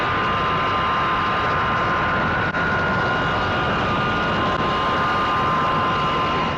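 A passenger airplane comes in to land, heard as a continuous loud broadband jet roar with a faint steady whine, unbroken and free of speech.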